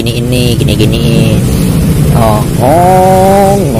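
A person imitates a revving motorcycle engine with the voice, a loud, steady buzzing drone that rises in pitch toward the end, heard up close with no other talk.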